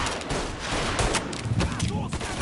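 Rapid bursts of gunfire from a Mafia 3 firefight, loud and dense with overlapping shots for a couple of seconds, a voice shouting over it.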